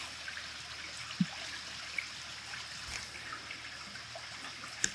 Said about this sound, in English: that's the sound of a mountain stream